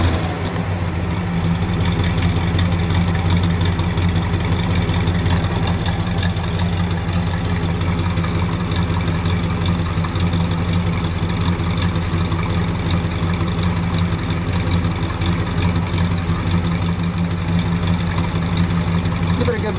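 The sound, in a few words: 65 Skylark Grand Sport engine idling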